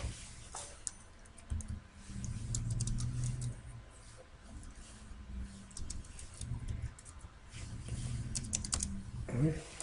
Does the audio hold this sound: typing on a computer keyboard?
yes